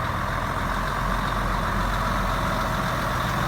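Colani-designed futuristic truck built on a DAF chassis, its diesel engine running steadily with a loud, continuous low rumble and no break in the sound.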